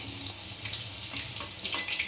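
Chicken pieces for chilli chicken fry in a pan, giving a faint, steady crackle and hiss over a low background hum.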